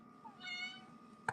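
A domestic cat meows in a drawn-out, harmonic cry near the mic, followed by a short sharp chirp at the end, heard alone against a quiet indoor room.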